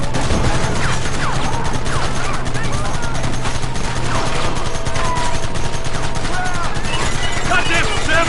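Dense gunfire from a Red Dead video game battle, with rapid overlapping shots and volleys hammering without pause, loud and close throughout. Shouting voices are mixed in.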